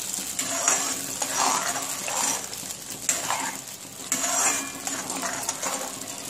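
Rhythmic stirring of ground masala frying in a pan, a spatula scraping the metal in repeated strokes over a continuous soft sizzle, close and steady throughout.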